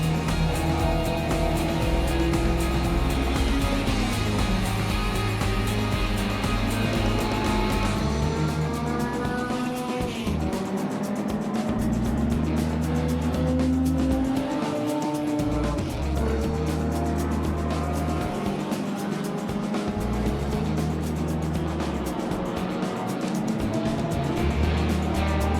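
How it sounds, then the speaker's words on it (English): Vintage racing cars at the Oldtimer Grand Prix evening endurance race, loud engines roaring and rising in pitch as cars pass one after another, with shifting revs and some tire noise, no talk. "the evening endurance races that saw the cars and drivers start at dusk and then drive off into the night"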